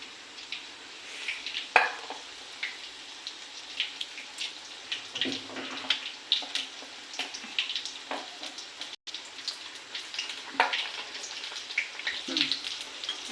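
Ajwain leaf fritters (bhaji) fry in hot oil with a soft, steady crackle and scattered faint pops, quiet throughout and without voices.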